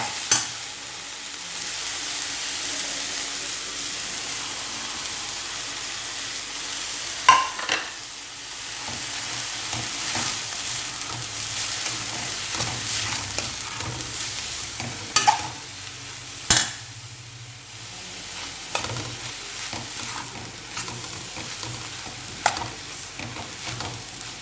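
Sautéed onion and grated coconut sizzle softly in a pan. A spoon scrapes and knocks against the metal at irregular intervals as the mixture is stirred close by.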